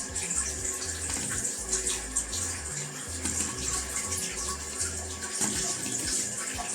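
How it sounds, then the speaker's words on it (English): Tap water runs steadily into a bowl while making a prison burrito, a continuous close splashing gush with low gurgling underneath, no talking. "we're gonna fill up our bowl with water."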